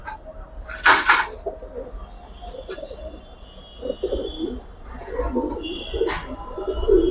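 Racing and Giribaz pigeons coo in soft, low bursts, with a brief flutter of wings early on, while people talk nearby.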